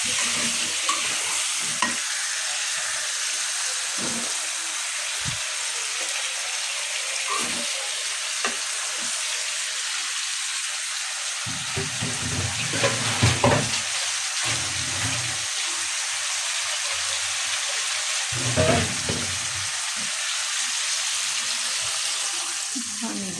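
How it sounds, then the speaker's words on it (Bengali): Boiled eggs cook with potatoes in a pan, a soft continuous sizzle under repeated spoon-stirring scrapes and clinks, with a few louder bursts partway through. "এখন এই যে আলু দিয়ে ডিমটা রান্না করতেছি"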